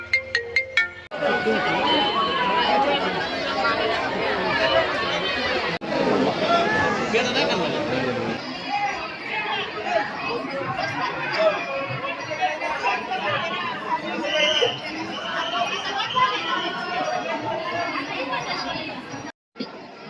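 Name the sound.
crowd of devotees at Akkalkot temple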